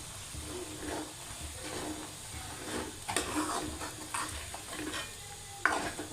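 A spoon stirs eggs and onions in a frying pan for an egg and onion curry, scraping steadily under a soft sizzle of oil, with a few louder clinks against the pan near the end.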